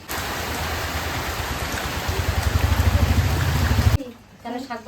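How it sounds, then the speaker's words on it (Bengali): Rain falls steadily outdoors as a broad, loud wash of hiss that swells over the first four seconds, then cuts off abruptly into a quieter stretch where a voice speaks. "আর বৃষ্টি আরম্ভ হয়ে গেছে"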